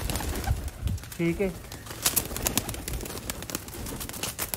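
Pet pigeons coo in a loft, a clear low rolling coo rising near the middle among other soft bird sounds, with someone talking briefly and rustling movement around them.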